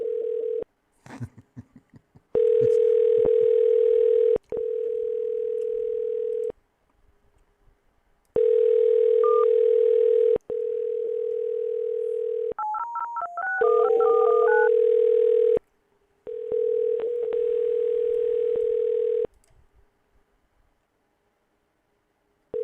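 An outgoing phone call rings unanswered: a repeated electronic ringback tone plays in long pulses with pauses between them, and a quick run of keypad dialing beeps sounds midway, all heard over the line.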